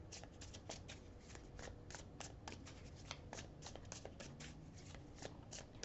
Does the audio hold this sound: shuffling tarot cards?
yes